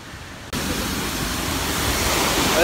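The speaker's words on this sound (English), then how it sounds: "So behind me here is the Arvelam waterfall." The Arvalem waterfall in Goa roars in a dense, broad rush of falling water that cuts in abruptly after a half-second and then holds loud and steady, swelling slightly toward the end.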